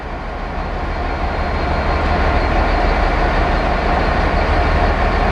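A train rolls by continuously at Didcot, a loud steady rumble and rushing roar of wheels on rails, with no voices.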